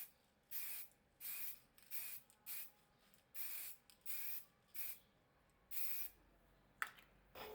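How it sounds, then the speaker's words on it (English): Acrylic spray paint hisses onto a 3D printed computer case in short, even bursts, about eight close puffs of roughly half a second each, separated by brief pauses and ending with a small click. "Before assembling the parts, we spray the 3D printed case with acrylic paint."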